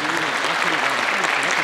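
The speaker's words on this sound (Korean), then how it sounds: "다시 한번 여러분 큰 박수 부탁드리겠습니다." Sustained audience applause fills the hall at the 2023 Chungcheong regional unification action rally's opening ceremony, a dense, steady clapping crowd throughout with a faint voice underneath.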